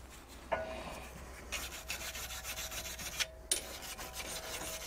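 A wire brush scrubbed by hand over front brake parts on a Nissan Leaf gives steady, close raspy strokes in repeated bursts with short pauses between them.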